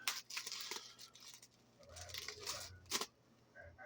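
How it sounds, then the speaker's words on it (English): Package wrapped in bubble wrap being unwrapped by hand, close crinkling, rustling and tearing of plastic in irregular bursts with a few sharp crackles. "still unwrapping, a lot of bubble wrap"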